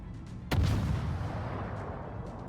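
A single loud naval artillery shot in World of Warships cracks out sharply, then rolls into a deep lingering rumble that slowly fades.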